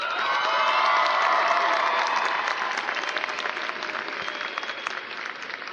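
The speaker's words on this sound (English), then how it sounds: "please give a round of applause to Elk Grove's finest" A crowd at a high school graduation applauds steadily, loud at first and tapering slightly, with scattered cheers and shouts mixed into the dense clapping.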